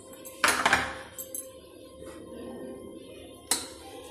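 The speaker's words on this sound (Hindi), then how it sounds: "चलिए इसको एक बर्तन में निकाल लेती हूँ मैं" Masala matar pulao is scooped from the cooking pot into a serving vessel, with a few sharp metal clanks of spoon against pot, the loudest near the start and another near the end, in a quiet kitchen.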